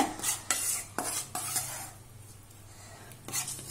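Chickpea flour (besan) roasts in ghee for laddu as a spoon scrapes and stirs the pan in several quick rhythmic strokes over a soft, steady sizzle, heard close with no talking.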